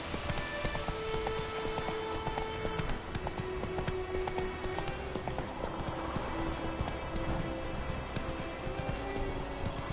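A horse galloping in The Witcher 3, rapid rhythmic hoofbeats pounding steadily throughout at close range over a soft ambient backdrop, with no voices.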